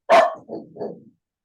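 A house dog barks three times in quick succession, a loud sharp first bark followed by two softer, shorter ones, close by with no talking over it.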